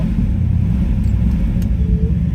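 A custom 1965 Plymouth Barracuda with a fuel-injected twin-turbo 360 V8 idles steadily nearby, a loud, continuous low rumble with no voices.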